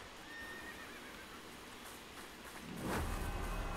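A horse neighs in the video game Prince of Persia The Lost Crown, a loud whinny near the end following a steady low background hiss.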